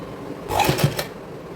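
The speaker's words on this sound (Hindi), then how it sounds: "यहाँ पे ऊपर से प्रेस सिलाई लगा देंगे।" Sewing machine stitching saree fabric while it is converted into a lehenga: a short close whirring run of needle strokes, about half a second long, with no talk.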